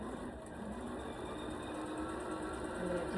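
Sewing machine stitching folded quarter-inch fabric edges, a continuous even motor whir with fine rapid needle ticking, close and steady without a break.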